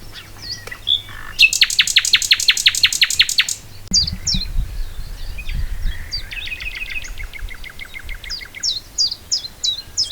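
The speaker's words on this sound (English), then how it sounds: "So that one's a chiff-chaff, and I know that because it sounds like it's saying chiff-chaff, chiff-chaff." A chiffchaff sings outdoors, a series of repeated sharp chirping notes with another bird's rapid trill early on, close and clear, with low rumble and no talk.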